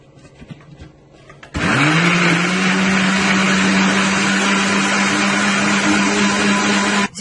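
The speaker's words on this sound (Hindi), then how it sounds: "अब इसको ब्लेंड करते हैं।" A blender whirs steadily for several seconds, blending a weight loss drink made with salt and a little black pepper; a loud motor hum starts abruptly and holds constant until cut off near the end.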